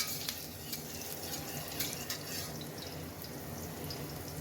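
A small amount of garlic fries in a pan, giving a faint, even sizzle with light crackles and occasional soft ticks, quiet and without voices.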